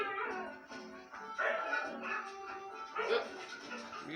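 A puppy on a TV animal show yips and whimpers in a few short bursts, heard through the television speaker indoors at moderate level.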